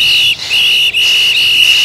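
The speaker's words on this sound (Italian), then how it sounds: "Fischietti." A referee's shrill whistle blows loudly in long sustained blasts during a football match, briefly interrupted twice, piercing and close.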